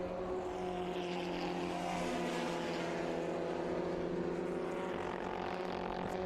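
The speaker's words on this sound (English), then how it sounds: "There's that 71 car of Tom Linton, a 1969 Winkleman" A 1969 Winkleman WDF1 vintage race car runs at Laguna Seca with a distant, steady engine drone. Its tone shifts gradually as the car moves along the track.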